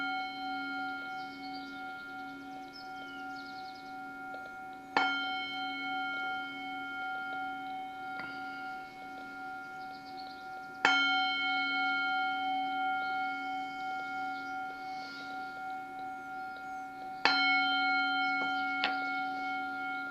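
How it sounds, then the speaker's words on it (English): Bells rung at the close of a Buddhist dharma talk at a Zen temple: three sharp, resonant strikes roughly six seconds apart, each ringing on in a long shimmering decay over a steady low hum. "And now we'll do 4 bells to ring out the speaker."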